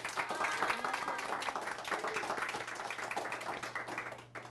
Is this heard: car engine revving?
no